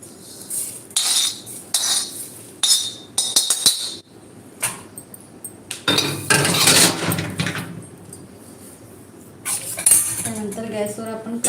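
Roasted dried fish, sukat, is scraped and tipped from a pan into another vessel: loud metallic clanks, spoon scrapes and knocks arrive in bursts, with quieter gaps between them and a long grating scrape near the middle.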